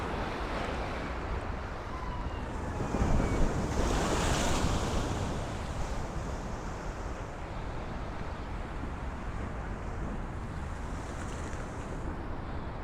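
Rough ocean surf crashes against a seawall along the South Brooklyn waterfront, a loud continuous roar that swells with one bigger wave early on, and wind buffets the microphone throughout.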